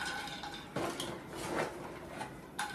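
Makhana (fox nuts) roasting in a pan, with the dry nuts rattling and scraping against the metal and a spoon clinking as they are stirred, close and moderately loud, with no talk.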